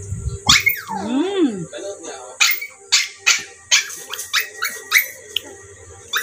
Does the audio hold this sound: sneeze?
no